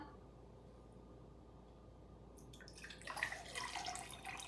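Quiet room tone for a few seconds, then water pours into a glass with a bright, splashy trickle that builds toward the end.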